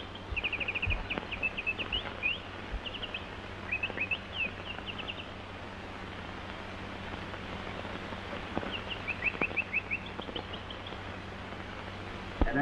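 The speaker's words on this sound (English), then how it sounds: "Darn that bird." A small bird chirps in repeated bursts of high, quick tweets, the calls fairly close and spread over a steady background hiss in a 1929 film scene.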